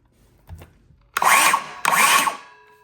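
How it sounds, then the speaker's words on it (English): A cordless saw powered by a Dewalt battery gives two short bursts of motor whine, each about half a second long with a brief pause between them, loud and close. A faint knock comes before the first burst. "we'll put this one on here, the Dewalt. You can see the name on it, see if it works to saw."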